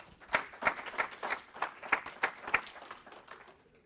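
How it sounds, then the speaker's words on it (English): Applause from a conference audience after a speaker is introduced, a dense burst of many hands clapping that peaks early and then fades out over a few seconds. "give him a big round of applause"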